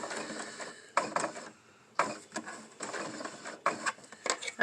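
Sewing machine stitching while face masks are made, heard as short bursts of close, rapid mechanical whirring and clatter separated by brief pauses, with no talk over it.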